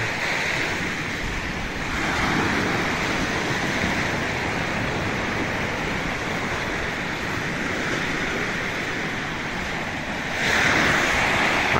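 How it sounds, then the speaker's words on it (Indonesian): Ocean surf rolling onto a quiet tropical island beach, a continuous broad wash of breaking waves with gentle swells in loudness and some wind over the microphone. "Ini adalah laut pantai yang sangat bagus untuk dicoba"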